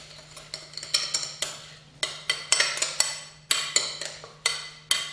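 Steak tartare being mixed with mustard, gherkin and Tabasco makes a series of rhythmic wet scraping and clinking strokes from a utensil against a bowl, close up and steady, with a low hum underneath.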